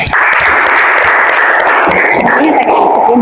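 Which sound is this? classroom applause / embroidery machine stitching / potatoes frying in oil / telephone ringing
classroom applause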